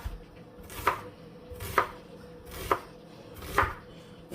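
A knife dicing an onion finely on a cutting board, four evenly spaced crisp chops about a second apart, close and fairly quiet with soft rustling between strokes.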